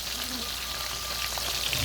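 Steady, crackling sizzle of stingray frying in hot oil, continuous and close, with no talking over it.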